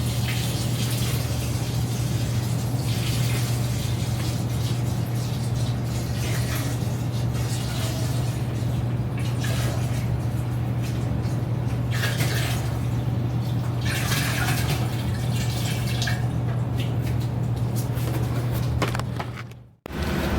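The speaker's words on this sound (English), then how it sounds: "So now we just add in the water and stir." Water streams steadily into honey in a large container while being stirred for about two gallons of mead, a loud, continuous close rushing and sloshing that runs nearly the whole time before stopping abruptly.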